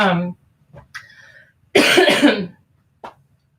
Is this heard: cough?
yes